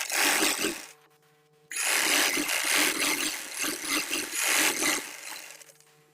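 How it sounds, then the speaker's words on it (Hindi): A sewing machine stitches the seat seam of a pajama pant in three long runs of steady, close mechanical whirring, separated by brief pauses, with no talk. "सबसे पहले हम करेंगे यहाँ से आसन की सिलाई"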